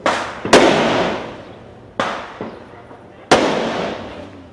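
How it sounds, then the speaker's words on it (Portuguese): Gunfire during a shootout between police and drug traffickers in Rio de Janeiro's North Zone: three or four sharp, loud bangs, each trailing off in a long echo, spaced irregularly over a few seconds. "Policiais foram recebidos a tiros."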